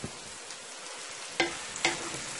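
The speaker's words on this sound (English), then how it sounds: "I am going to go over to my karela here and I'm going to give it a toss." Bitter gourd (karela) sizzles quietly in a frying pan, with a couple of sharp scraping clatters as the pieces are tossed.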